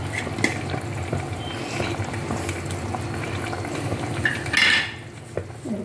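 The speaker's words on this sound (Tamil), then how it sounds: "அந்த பக்கம் மிளகு குழம்பு கொதிச்சுட்டு இருக்கு." Pepper kuzhambu simmers in a pot on a home kitchen stove with a low, steady bubbling under faint clinks of utensils and a brief scrape of metal against the pot.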